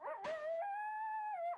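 A dog howls in the survival video game SurvivalCraft, giving one loud, drawn-out howl that rises and holds steady for over a second, preceded by a brief sharp noise.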